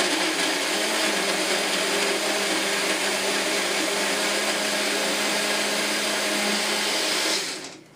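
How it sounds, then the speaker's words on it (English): A small mini blender whirs steadily at high speed, loud and close, blending pesto for several seconds before winding down at the end. "our little mini blender"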